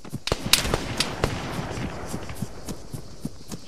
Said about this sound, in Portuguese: Corre que o tiroteio vai ficar insano.